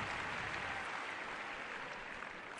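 A faint, distant tennis crowd at the 2011 US Open, clapping and murmuring, steady and hushed throughout, with no distinct voices.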